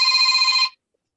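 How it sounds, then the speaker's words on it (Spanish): A telephone rings in one steady electronic tone that cuts off abruptly after under a second, loud and clear with silence after. "contesten el teléfono, por favor"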